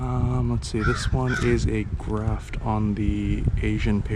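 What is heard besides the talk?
crow cawing in the background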